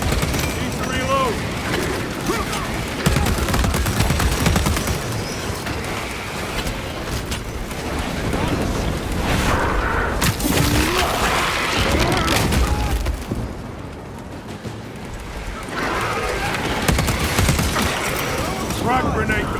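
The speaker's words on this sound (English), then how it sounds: "Frag grenade deployed." A frag grenade explodes amid sustained gunfire in the Warhammer 40,000: Space Marine 2 video game, with deep booms and rattling mechanical clatter over a dense, loud battle bed as voices talk throughout.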